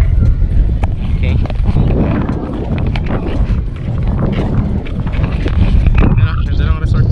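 Wind blowing at a beach resort, a steady rough rumble buffeting the microphone throughout, with a person talking over it.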